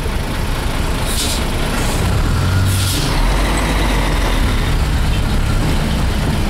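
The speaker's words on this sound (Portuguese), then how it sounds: "O caminhão vai, vai, vai passar pra gente." A truck passes in a traffic jam under an overpass, with a steady, loud engine rumble and road noise throughout and a couple of brief hissing air-brake bursts.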